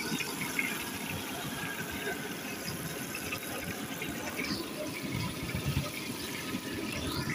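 Pieces of fish frying in hot oil in a kitchen pan, a steady dense sizzle and crackle that holds level throughout with no voices.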